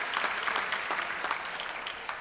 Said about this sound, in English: Let's give them a round of applause as they start that process this year.